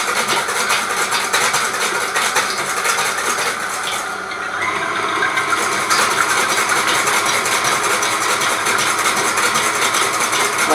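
Electric mixer whisking sabayon and egg whites in a kitchen: a continuous loud motor whir with a rattling beat that holds steady, dips briefly midway, then runs on unchanged.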